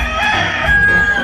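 A single rooster crows in a residential neighborhood on a Sunday, a brief, strained call rising over a steady low hum of background noise.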